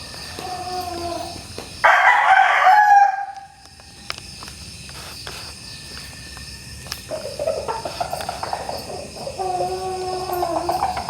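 Possum Sweater gamecock roosters, a father and son, crow loudly nearby in one strong call, with softer calls later over a constant chorus of crickets and insects.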